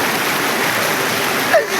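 The Karnali river flows as a steady, loud broadband rush of water that fills the whole short stretch, with no voices.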